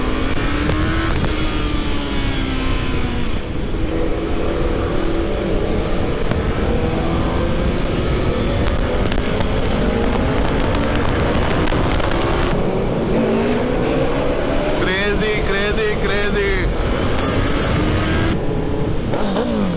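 A Suzuki Hayabusa superbike fitted with a Racefit exhaust, its engine loud and close, revving and accelerating repeatedly with rising and falling pitch over continuous traffic noise.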